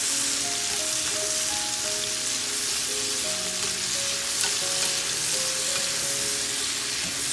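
Small shrimp with salt are stirred in a frying pan, giving a steady close sizzle with scraping stir strokes and faint tonal squeaks throughout.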